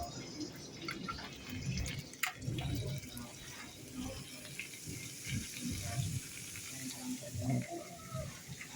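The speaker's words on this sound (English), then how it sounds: "I'm about to throw my bacon in there now because it's getting hot" Bacon sizzles and crackles in a hot pot, a steady hiss with scattered pops and clicks at moderate loudness, with a person talking over it.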